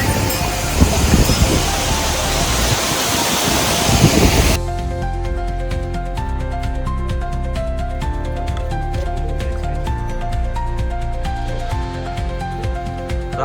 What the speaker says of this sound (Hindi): पूरे शबाब से बहता झरना।